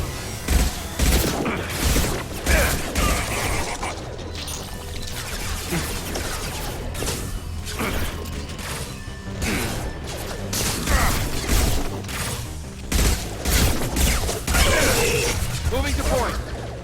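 Gunfire from the video game Mass Effect 2 crackles in repeated bursts and bangs, mixed with explosions and mechanical clatter, while voices talk over the action.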